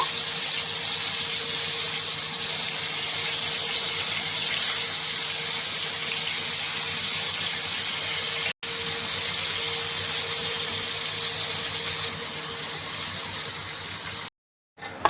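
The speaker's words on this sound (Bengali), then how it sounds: "অপর সাইডটা ভালো করে ভেজে নেব।" Rohu fish, rubbed with salt and turmeric, sizzles in hot oil as it fries on its second side, a steady dense hiss with a brief break midway before cutting out at the end.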